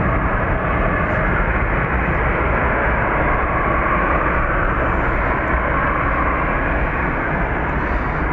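A Ryanair airliner at Dublin Airport makes a steady, loud engine roar that holds evenly throughout with no pauses.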